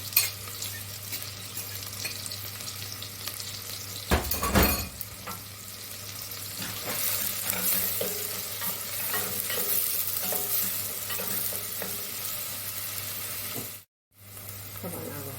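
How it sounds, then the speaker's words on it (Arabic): Onions frying in a pan crackle and sizzle steadily while a utensil stirs and scrapes them, loud and close, with a clatter early on and a brief gap near the end. "أول مرة البصل أقليه شوية وبعدين أخلي الجزر"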